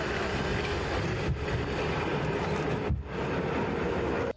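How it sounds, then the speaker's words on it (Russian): A passenger train pulls away from a station platform, a steady loud rumble of rolling wagons with faint rhythmic wheel noise and no voices. "Поезд отходит"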